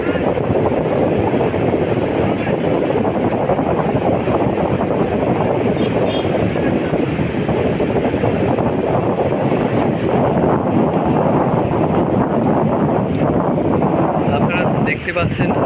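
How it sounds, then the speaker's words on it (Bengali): Rough surf pounds Himachari Beach in Cox's Bazar, a steady loud roar of breaking waves mixed with heavy wind buffeting the microphone throughout. "উত্তাল সাগরের ঢেউয়ের হাতছানি।"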